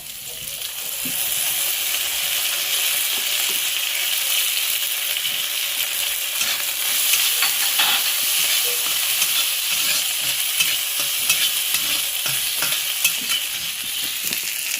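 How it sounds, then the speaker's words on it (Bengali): Ginger paste sizzles and fries in a pan for a red amaranth greens dish, a steady close hiss with faint stirring scrapes running unbroken throughout. "আমি দিয়ে দেবো আদা বাটা"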